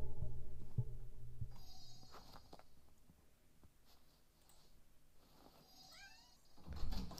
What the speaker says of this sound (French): le chat est de retour avec nous